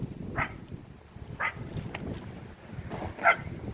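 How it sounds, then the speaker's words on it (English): A dog barking near an abandoned railroad track: a few scattered, faint barks and yips sound at a distance over outdoor background noise. "That dog might be a rail fan"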